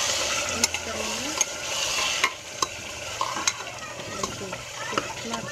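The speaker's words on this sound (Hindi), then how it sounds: "अब इसको अच्छे से मिक्स करेंगे।" Mutton korma stirred and frying in a pan for a Hyderabadi dish, with a steady sizzle under sharp scrapes and clinks of a spoon against the pan at irregular intervals, close and fairly loud, no talking.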